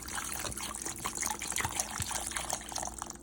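About a cup of water poured into a pot of peppers for Mexican-style chili, a steady gushing, splashing flow that runs continuously for a few seconds, close and fairly loud with no talk.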